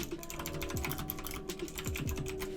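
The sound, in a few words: typing on a computer keyboard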